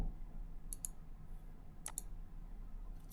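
A few quiet keystrokes on a computer keyboard, in two short clusters of clicks about a second apart, over a low steady background hum.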